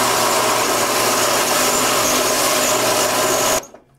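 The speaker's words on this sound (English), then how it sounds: "I'm just going to take the face of the neck on the belt sander a little bit" A belt sander runs loud and steady as the face of a wooden guitar neck blank is pressed against it, a dense whirring grind that cuts off abruptly near the end.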